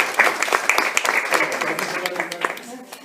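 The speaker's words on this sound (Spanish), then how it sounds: "Aplauso a la parte." A small group applauds during a psychotherapy training session, brisk scattered claps close by with voices talking underneath.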